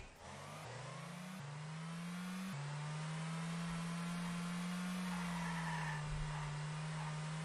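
Turin muscle car engine in the racing video game Musclecar Online, revving up through gear shifts and then holding a steady loud drone, close and alone with no talk.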